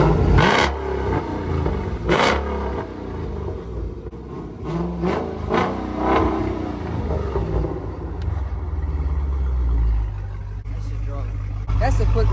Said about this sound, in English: We gotta give him a couple of revs.